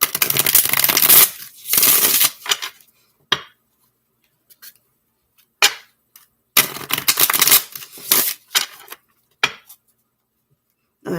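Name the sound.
shuffling a deck of cards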